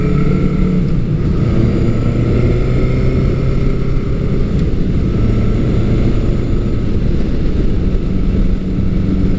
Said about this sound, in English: Now I can also leave it in high range and pull away.